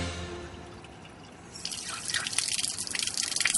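Water runs and drips from a household tap into a sink, quiet at first and then a louder, fluttering splash of flow that builds toward the end, with no voices.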